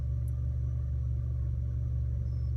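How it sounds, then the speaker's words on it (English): A car engine idles steadily nearby, a constant low rumble with a smooth hum and no revving, running alone without any voices. "we can turn the car off"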